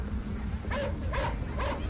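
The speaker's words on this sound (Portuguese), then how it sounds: "De repente, eles começam a latir desesperadamente." Two dogs shut in a backyard barking frantically, three loud bursts of barking spaced evenly over a low steady rumble of background noise.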